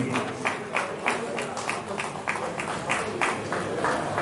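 Steady rhythmic clapping from a gathered crowd at a cycle rally reception in Lalitpur, beats landing in quick regular succession, moderately loud, with a voice talking over it.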